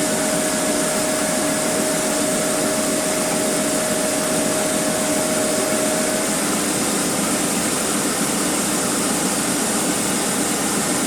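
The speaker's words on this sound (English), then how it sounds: "I'll have to use a Dremel on it." A Dremel rotary tool cuts into a metal coin being made into a ring, giving a loud, steady, close-up whirring drone with an even pitch that holds without a break.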